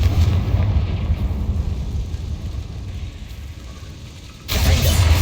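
Confringo fire spell blasting in Hogwarts Legacy, heavy rumbling explosion that rolls on steadily and then swells into a second loud burst near the end.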